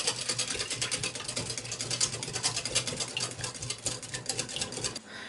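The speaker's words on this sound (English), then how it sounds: "And then we're just going to whisk that up." Pancake batter for fluffy American-style pancakes is whisked in a bowl, giving a fast, steady run of close, crisp clicking and scraping that continues for about five seconds, then stops abruptly.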